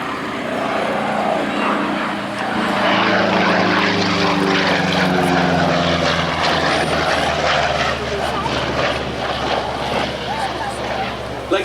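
A propeller-driven bomber escort fighter flies past at an air show, its engine a loud, sustained drone that swells and holds throughout, with no one speaking.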